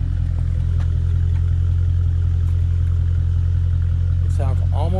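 A hot Dodge Challenger with modified mufflers runs at a loud, steady idle, its deep low rumble constant throughout, with a brief high squeal or chirp near the end.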